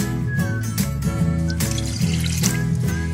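Water poured steadily into a small cooking pot while a cake batter is being prepared, a continuous close pour with no talking.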